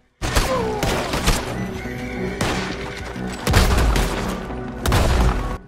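Rapid incendiary gunfire bursts and a horse whinnying in the Red Dead Redemption video game, loud close shots in several clusters with crashes and booms between them.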